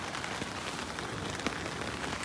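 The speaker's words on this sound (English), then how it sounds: "The rain started again." Heavy rain pours steadily at a riverside camp, a dense, loud, unbroken hiss of drops striking surfaces all around.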